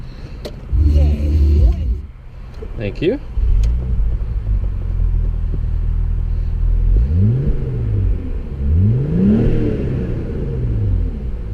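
Audi B5 RS4 Avant with a smooth 2.7-liter twin-turbo engine making 380 horsepower rumbles steadily up close, then revs rise and fall in two or three swells; a brief word of thanks is spoken near the start.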